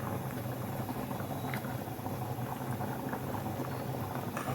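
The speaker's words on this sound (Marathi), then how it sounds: "आपल्या आमटीला छान उकळी आलेली आहे" A pot of mutton amti curry at a rolling boil, bubbling and popping steadily up close with no talk.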